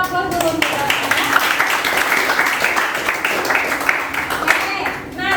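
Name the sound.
classroom applause for a student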